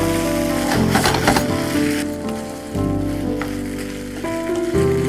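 Chicken sizzles steadily in a hot pan during stir-frying with salt, a continuous frying hiss under background music with no talk.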